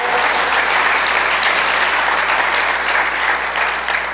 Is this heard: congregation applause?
yes